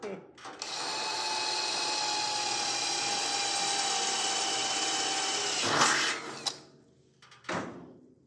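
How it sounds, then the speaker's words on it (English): A power drill bores into the steel floor pan of a 1934 Ford Coupe, a steady high whine lasting several seconds before winding down, followed by brief clanks and a short second burst close by. "Drilling a perfectly good pan here"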